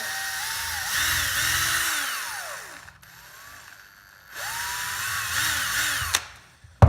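A power drill whines up and bores a hole in a racing mower build in two loud bursts with a pitch that sags under load, separated by a quieter lull.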